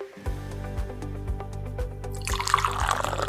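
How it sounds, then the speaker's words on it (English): Hot water pours into a mug, a gurgling liquid splash building near the end after a few soft low thumps. "Add that nice hot water."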